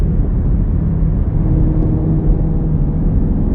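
Deep, steady engine drone of a Mustang GT350 or Camaro 1LE sports car, loud and close with a constant low rumble and no speech.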